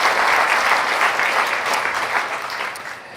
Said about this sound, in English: Maybe a quick round of applause for another incredible event with SaaStr Europa